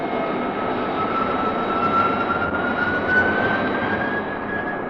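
F-92K jet aircraft in flight as a radio drama sound effect: a steady, loud, continuous engine roar with a faint whine, holding level throughout with no voices.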